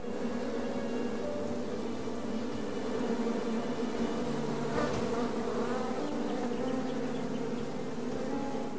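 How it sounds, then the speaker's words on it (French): Bees buzz in the King's Quest video game, a dense continuous swarm hum at steady loudness for the whole stretch, with no voices over it. "Des abeilles! J'ai gâché la fête des abeilles et un bon repas."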